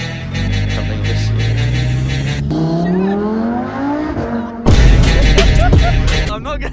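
A Lamborghini engine drones and rises in pitch as the car pulls away, then a sharp, loud burst of revving and tire squeal near the end; no talking.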